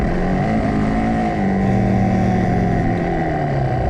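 A 450 motocross bike on the Milestone MX track purrs steadily at low throttle, a loud, close, even drone with slight pitch wavers and no hard revs.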